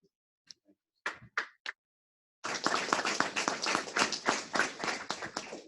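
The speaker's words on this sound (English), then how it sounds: "thank you for applauding before I even told my story" Applause from a town hall audience over a Zoom stream: a few scattered claps at first, then a dense, steady burst of clapping that starts suddenly and carries on to the end, fairly close and loud.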